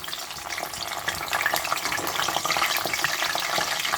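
A constant crackling sizzle of brinjal frying in hot oil, close by and bubbling steadily.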